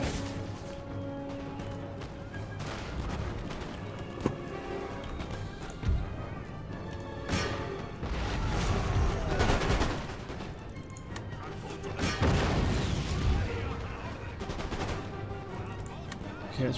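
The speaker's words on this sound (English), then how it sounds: "So my right-handmost howitzers fire at them because they're swarming us." Howitzer and musket fire in the Empire Total War video game, a continuous din of overlapping gunshots and artillery booms with crashing impacts, loudest bursts around the middle and near the end.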